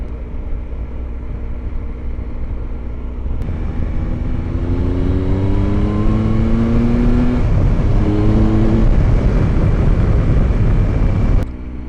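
A Triumph Tiger 1215cc adventure motorcycle engine revs and pulls through bends, rising in pitch with each gear, loud and close with a steady rushing wind beneath.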